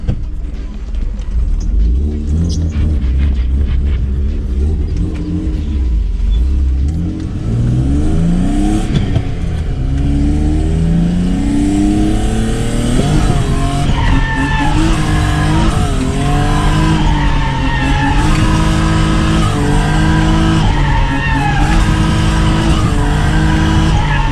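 A drift car with a new exhaust, likely a Toyota JZ-engined car, roars close by with a loud, raspy exhaust, revving hard and rising in pitch over squealing tires, sustained throughout.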